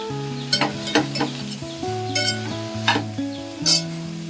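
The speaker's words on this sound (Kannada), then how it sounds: "ಇವಾಗ ಮಶ್ರೂಮ್ ಆ್ಯಡ್ ಮಾಡ್ಕೊತಾ ಇದ್ದೀವಿ." Mushrooms sizzling and frying in masala with ginger-garlic paste for mushroom biryani, with steady hissing broken by a few sharp stirring clinks and scrapes of a spoon against the pan, close and fairly loud, no talk.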